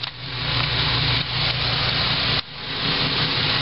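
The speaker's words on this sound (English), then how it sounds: "right now it's idling very smooth. It's quiet." A 1993 Chevrolet S10 Blazer engine idles smoothly and steadily after an MSD distributor install, a continuous close mechanical hum with brief dips in level, no talking.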